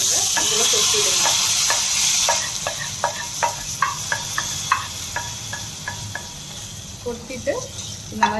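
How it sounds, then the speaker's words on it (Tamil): Banana stem sautés in a pan on a stove: a steady loud hiss at first, then a quieter sizzle marked by a regular run of short spatula scrapes and taps, close by. "இப்போ வாழைத்தண்டு திரும்பி அடுப்பில் வச்சுட்டு இப்போ வதக்கணுங்க."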